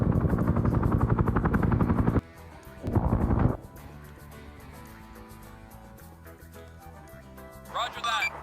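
A helicopter in a Vietnam-era combat game thrums with a loud rotor roar that cuts out abruptly, surges briefly again, then drops to a lower drone under voices and radio chatter.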